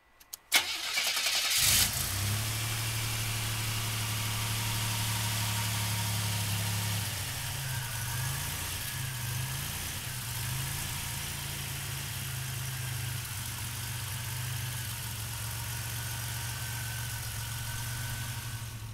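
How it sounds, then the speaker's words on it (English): A 1987 Buick GNX cranks briefly and fires up, then settles into a steady, close idle with a low mechanical rumble that carries on alone for the rest of the stretch. "we're going to fire it up for you right now"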